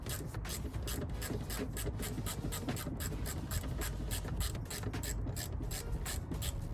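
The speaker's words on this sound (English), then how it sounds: "I'm gonna start undoing these bolts here and then finally get this bumper off" A ratchet wrench clicks steadily in fast, repeated strokes while undoing the bumper bolts on a BMW E90 325d, close up and continuous, with no talking.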